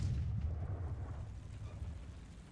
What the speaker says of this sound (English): At this point I realize I'm firing HE